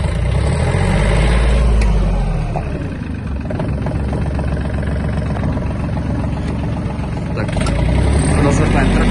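A Yanmar RS-24 Japanese mini tractor's engine runs steadily in low gear, a loud continuous low rumble with a slight dip in level midway, heard close with no talk over it.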